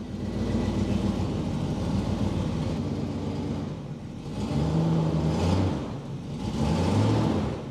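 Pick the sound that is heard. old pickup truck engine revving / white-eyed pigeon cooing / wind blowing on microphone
old pickup truck engine revving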